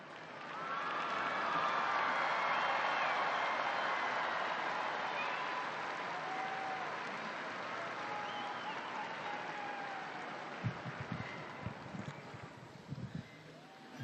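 Broad outdoor crowd applause rises and swells in St. Peter's Square as the crowd welcomes the Pope, a distant, washy roar of clapping that slowly fades, with a few low thumps near the end.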